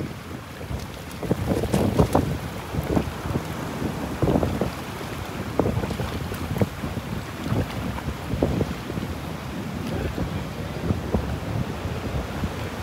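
Strong gusting wind at the start of Hurricane Milton's storm surge on the Gulf coast, buffeting the microphone in loud rumbling bursts over a constant roar, with no talking.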